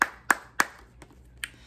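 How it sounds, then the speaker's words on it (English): A lone person claps hands, three sharp, close claps in steady rhythm followed by a couple of softer scattered ones, with no voices. "Let's just give a round of applause"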